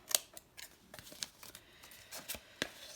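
Scissors snip paper while a junk journal pocket insert is trimmed at the corners, several short, crisp cuts spaced irregularly across a quiet background.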